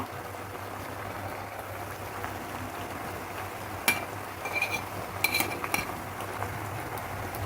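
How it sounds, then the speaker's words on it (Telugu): Carrots stirred into masala pasta in a pan over a lowered flame, with faint scattered scraping and clinking of a spoon against the pan over a quiet low hum. "ఈ క్యారెట్ని కూడా కొంచెం ఫ్లేమ్ తగ్గించి ఈ క్యారెట్ని ఈ విధంగా కలిపేసుకున్నాం"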